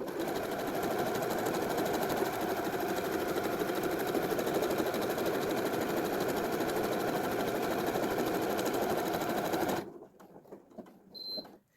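A Janome DC7100 sewing machine runs at top speed while stitching a buttonhole, giving a dense, even mechanical whir close up that stops abruptly near the end, followed by faint handling noises.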